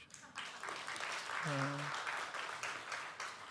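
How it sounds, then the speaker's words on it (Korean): A church congregation at a Christmas Sunday worship service applauds its broadcast team with a steady, moderately loud round of clapping, and a voice briefly sounds over it partway through. "우리 방송실 박수 한번 쳐주시죠."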